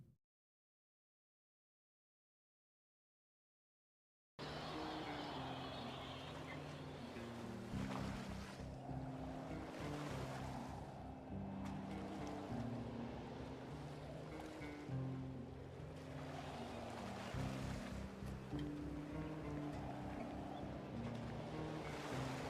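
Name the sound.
water sound in the video game Project Zomboid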